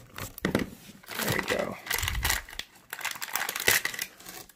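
Cardboard and plastic packaging for car wheel parts is cut open with a small knife, making crinkling, tearing and scraping sounds in bursts, close by, while a person talks.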